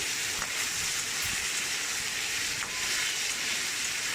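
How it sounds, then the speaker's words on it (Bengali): Sliced snake gourd, potato and onion frying in hot oil in a pan, a steady, loud sizzling hiss that carries on throughout, with faint scrapes of stirring and no voices. "চিচিংয়ে, আলু আর পেঁয়াজ ভালো করে নাড়াচাড়া করে ভেজে নেব।"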